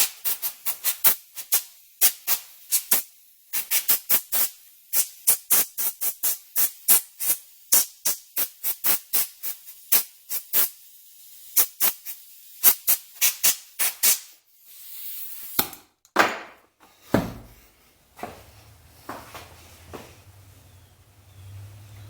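Compressed air blasts a Poulan pole saw carburetor clean in a long series of short, sharp hissing bursts at an uneven rhythm, then a few longer sprays before a faint low hum takes over.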